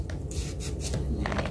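A knife finely shreds cabbage on a board, giving a continuous rapid crisp rasping close up with no talking.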